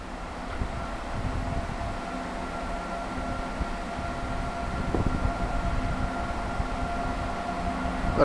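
A Regio passenger train at Câmpina station in Romania rumbles steadily, with a sustained low drone and faint tonal whine. The rolling noise stays even and moderately loud throughout, with no voices.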